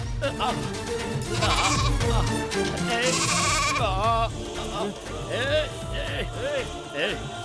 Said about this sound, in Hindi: अंदर से कुछ बकरियों की आवाज आ रही है